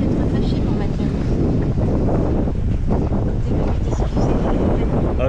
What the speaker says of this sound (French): ça souffle 22 nœuds et ce soir ça a souvent soufflé 25, il y aura sûrement des rafales à 30